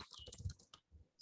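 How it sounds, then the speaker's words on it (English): Keys clatter on a computer keyboard in a quick, faint burst of clicks that fades after a moment, with no voice. "so we are typing in here"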